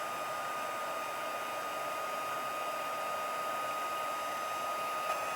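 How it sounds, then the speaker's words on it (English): A heat embossing tool blows hot air in a steady, even hiss that stays constant the whole time, fairly quiet and alone, while embossing powder is heated for card making. "we need to make sure that our heat tool is really hot before we apply it to what we want"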